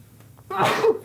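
A single sharp human sneeze, short and close, preceded by a faint intake of breath.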